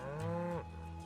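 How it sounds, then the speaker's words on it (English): Cattle mooing in the Final Fantasy VII Rebirth video game: a single drawn-out, close moo that bends downward at the end, heard clearly and alone. "So many cows."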